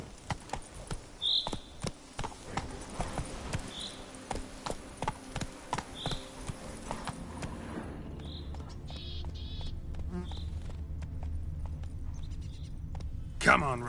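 Roach, Geralt's horse in the Witcher 3 video game, trots and gallops with rhythmic clip-clopping hoofbeats that come at a steady pace, then give way to a quieter stretch with a few soft tonal cues. A voice briefly calls out.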